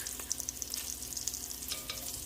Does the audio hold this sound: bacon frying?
yes